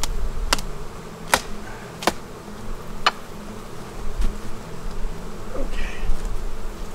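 Honey bees from a strong, opened hive buzz steadily nearby in hot weather, a constant drone broken by a few sharp clicks and knocks of hive equipment.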